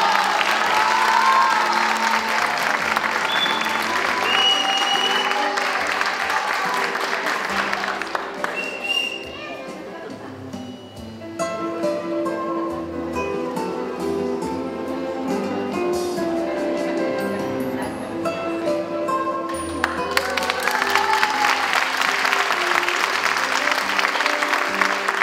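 A crowd at a Teacher's Day ceremony applauds warmly for an honored teacher, with loud sustained clapping that eases into a quieter stretch under music and voices before swelling again.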